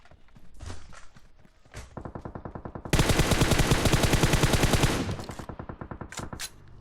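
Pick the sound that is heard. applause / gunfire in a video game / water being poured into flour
gunfire in a video game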